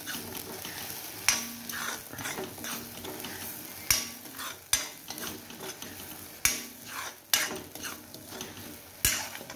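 Ivy gourd sautéing in oil in a pan for a pachadi, a steady close sizzle broken by repeated sharp scrapes and clinks of a spatula against the metal, with no one talking.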